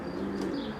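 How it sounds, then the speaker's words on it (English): Tame young pigeons or doves coo softly in a steady low murmur, close by and continuous through the short moment, with no talking over them. "Very tame birds, young birds."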